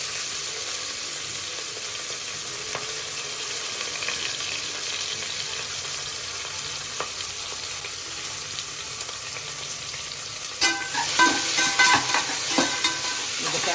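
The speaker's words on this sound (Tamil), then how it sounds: "வெங்காயத்தை போட்டு கொஞ்சம் நேரம் வதக்கணும்" Onions sautéing in a pot for a homemade soup, a constant even sizzle with occasional stirring scrapes that get louder and busier toward the end, no one speaking.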